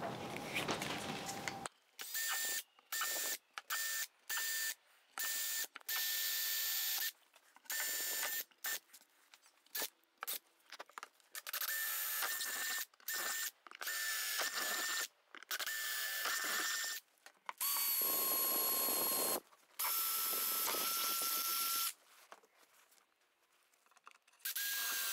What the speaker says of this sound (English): I'm just gonna just drill into my mounting plate, and that will give me the holes to mount this router lifter on.